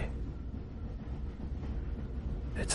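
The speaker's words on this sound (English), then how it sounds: "while the train rumbles on in the night towards the city of angels" A train rumbles steadily along the tracks at night, a continuous low, dense roar with no voices, rising slightly with a brighter hiss near the end.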